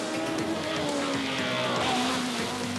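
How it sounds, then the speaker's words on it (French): BMW and Lancia rally cars race flat out on a 1987 Tour de Corse special stage, with a loud, continuous engine roar and tyre noise close by and no let-up. "La BMW et la Lancia se lancent à coups de seconde dans une formidable bataille"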